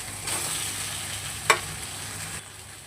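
Eggs frying in a thick cooked spice masala in oil, a steady close sizzle with a sharp crackling burst as they hit the pan, the sound dropping off near the end.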